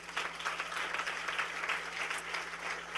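Church congregation applauding together during a worship service, a steady, fairly distant patter of many hands clapping with no talking.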